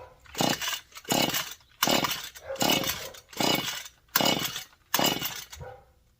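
A modified Husqvarna 435 chainsaw with its choke on and a carburetor in need of rebuilding is being started: six short, loud bursts in a row, each sputtering briefly before cutting out.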